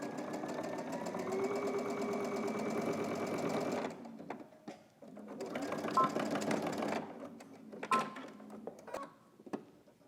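A sewing machine runs steadily while stitching binding, then pauses and restarts in short bursts with clicks and handling noises between runs.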